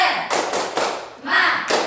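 Students in an Indonesian classroom do the 'tepuk semangat' rhythmic clap: sharp, close group claps land in a patterned sequence of bursts with short gaps, and brief vocal sounds slip between them.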